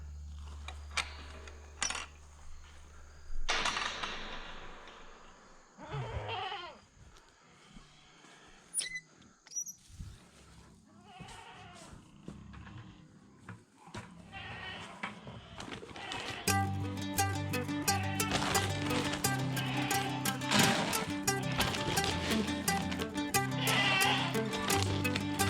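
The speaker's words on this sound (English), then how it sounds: "You hear them pigs squealing back there, Chuck?" High-pitched squeals and bleating cries of pigs inside a farm barn during evening chores, scattered and fairly close at first, then joined by a dense, loud, continuous clatter of barn noise in the second half.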